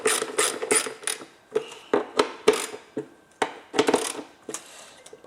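Screws being fastened into the engine cover of a Rover K-series engine during head gasket repair: a rapid ratcheting and clicking of metal tools in short bursts, close and clear, with no talking.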